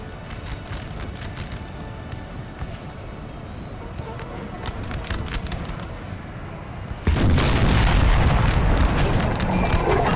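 Booming cannon and artillery volleys ring out across a Napoleon Total War battlefield at Salamanca, a dense rumble of distant fire and hoofbeats that swells into a louder, sustained barrage near the end.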